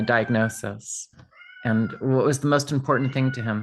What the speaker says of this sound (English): Sorry, that's The cat.